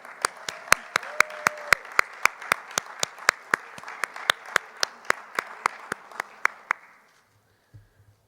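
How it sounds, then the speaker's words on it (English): Slow rhythmic clapping for homecoming queen Stephanie Steele at the MVNU Homecoming 2020 coronation, a steady run of distinct claps over a soft crowd wash that stops abruptly near the end. "Let's give another round of applause for our 2020 Queen, Stephanie Steele."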